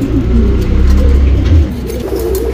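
A Balle Huccha breed pigeon, one of a bonded pair, coos in low, rolling throaty pulses, close and loud, with a faint car passing in the background.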